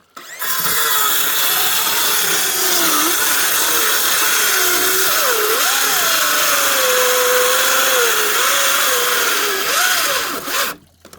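A Makita electric saw whines loudly and steadily through hornbeam wood for about ten seconds, its pitch dipping and rising as it bites, then cuts off.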